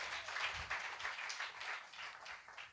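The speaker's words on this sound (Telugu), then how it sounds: "చప్పట్లు కొట్టండి గట్టిగా" A church congregation claps together in a steady, sustained round of applause. It sounds moderately distant and fills the whole moment with no voice over it.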